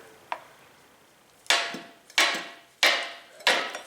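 Four sharp metallic whacks of a hammer striking a pry bar to knock out a wheel bearing seal, near and loud, spaced unevenly after a faint tap at the start.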